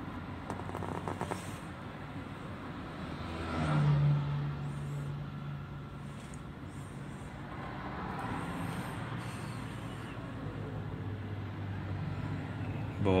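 A ten-wheel truck passes on a road, a steady engine rumble with a louder low drone swelling around four seconds, set against continuous roadside traffic noise.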